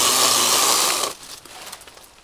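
Greenworks electric pole saw cutting a branch about 1.5 to 2 inches thick: a loud, close whirring rasp for about a second, then the motor cuts out and only faint clatter remains.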